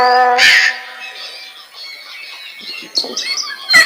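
A myna bird in the Meena video game gives a loud, harsh squawk, then softer chirpy calls, then another sharp squawk at the end, all clear and close.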